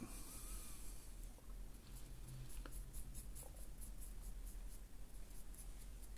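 A paint brush loaded with XV88 and brown paint is dragged across a paper kitchen towel, giving a faint, soft scratchy rustle that continues steadily without speech.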